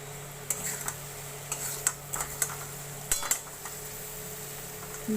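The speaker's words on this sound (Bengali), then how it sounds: "ভালো করে মিক্সড করে নাও এবং এটা একদম ভালো করে ভেজে নাও" A spoon scrapes and clinks against a pan while crab masala is stirred and fried, giving sparse, sharp metallic taps over a quiet background.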